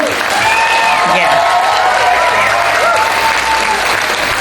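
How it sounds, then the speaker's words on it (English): A large outdoor rally crowd applauds trans youth speakers, loud continuous clapping and cheering that holds steady at full volume, with shouts and voices mixed into the roar. "give another round of applause for all of the trans youth today who have been speaking"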